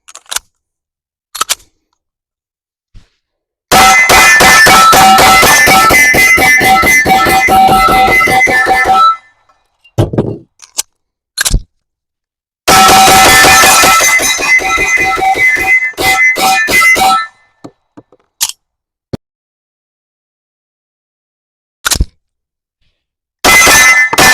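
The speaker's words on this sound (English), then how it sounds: "I'm just going to start blasting, see if I can't tire out my trigger finger, do some mag swaps along the way" Walther Q5 Match pistol fired in rapid strings at a range, two long loud bursts of closely spaced shots separated by pauses with magazine swaps, plus a few isolated shots and clanks, no talking.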